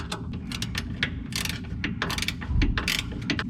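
A hand ratchet tightens knurled studs against the firewall of a 1977 Datsun, giving a steady run of close, sharp metallic clicks in quick repeated strokes with short pauses between them. No one talks.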